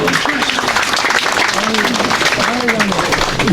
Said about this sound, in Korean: 자, 우리 박수로 한번 크게